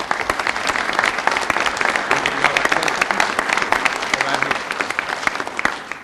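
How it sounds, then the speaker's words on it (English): Sustained applause from the audience at a city council meeting, steady dense clapping throughout, with a faint voice briefly audible underneath. "Let's give these gentlemen a big round of applause."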